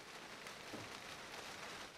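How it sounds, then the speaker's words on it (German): Steady rain falls in the video game Overclocked, set in New York, a constant soft hiss of drops on surfaces with no talk. "Es regnet ganz schön."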